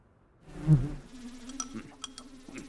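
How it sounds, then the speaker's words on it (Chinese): A housefly buzzes close by in winter, a thin droning whine that rises after a brief silence and wavers on, with soft clicks and rustles around it. "大冬天的，这哪来的苍蝇啊？"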